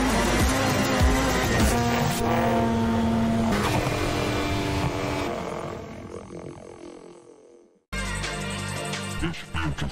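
Rally car engine from a video game of rallies, rallycross and hill climbs, roaring loud and continuous under dense layered music, dropping briefly to near silence before surging back.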